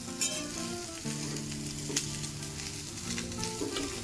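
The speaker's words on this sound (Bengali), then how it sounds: "ফুলকপিগুলোকেও লালচে করে ভেজে নিয়েছি।" Cauliflower florets sizzle steadily in hot oil in a kadai as they fry to a reddish brown for a Bengali aloo-fulkopi dish. The crackle is close and constant, with no voices.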